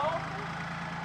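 A tractor engine idles steadily with a low, even drone while hitched to a trailer carrying a digger, a close continuous rumble with no break across the short moment.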